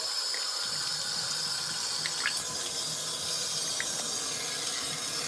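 Water from the hot line streams steadily into an LG ThinQ portable washing machine, a constant hissing rush that fills the whole clip without pause.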